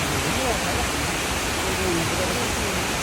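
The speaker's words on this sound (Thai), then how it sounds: "ปิดท้ายคลิปนี้ด้วยความสวยงามของน้ำตกชิราอิโตะค่ะ" The Shiraito waterfall in Japan gives off a steady, dense rush of falling water that stays loud and unbroken from start to end.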